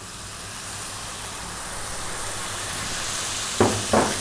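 Coconut milk sizzles in a hot pan for an Indian-style fish curry, a steady, loud frying hiss that holds throughout, with two short scraping stirs near the end.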